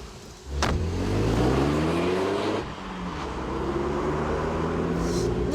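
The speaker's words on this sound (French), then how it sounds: "Voici donc engagé sur le circuit Ascari avec la nouvelle Renault Mégane RS" A Renault Mégane RS driving on the Ascari circuit, its engine droning steadily close up with rising and falling tones as it accelerates and shifts through the gears, with no talking over it.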